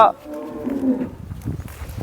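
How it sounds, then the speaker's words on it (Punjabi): A cow for sale at a dairy farm lets out one low, drawn-out moo close by, with some faint farmyard noise trailing after it. "ਗਾਂ ਜਿਹੜੀ ਹੈਗੀ 75000 ਰੁਪਏ ਦੀ ਮਿਲਣੀ ਆ ਤੁਹਾਨੂੰ ਬਾਈ ਰੰਮੀ ਦੇ ਫਾਰਮ ਤੋਂ"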